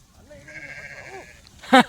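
Lamb and sheep bleating during a shepherd's day in the field, a thin drawn-out lamb cry and wavering bleats, ending in one loud close bleat, with faint movement underneath.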